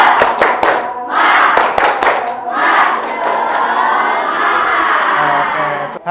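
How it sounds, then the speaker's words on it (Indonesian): A classroom of pupils performs a rhythmic spirit clap, bursts of sharp hand claps in quick patterned groups mixed with loud group chanting and shouting, close and energetic. "Kita tepuk semangat, siap?"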